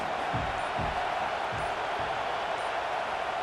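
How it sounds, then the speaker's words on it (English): Stadium crowd roar from a College Football 26 gameplay broadcast of Wisconsin versus Miami (OH), a steady, dense wash of noise with low thumps, continuous throughout and fairly loud. "This crowd trying to make life miserable for this offense."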